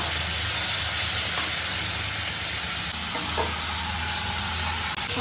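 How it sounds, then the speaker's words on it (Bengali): Chicken pieces fry in hot oil for a dhaba-style chicken dish, giving a steady, dense sizzle throughout with faint stirring scrapes, close and even, with no talking. "একটু চিকেনটা ফ্রাই করে দিচ্ছি।"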